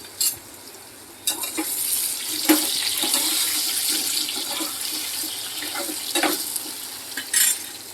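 Pointed gourd curry being tempered with curry leaves in a pan, with a steady sizzle broken by stirring scrapes and bursts of splashing hiss, close and moderately loud.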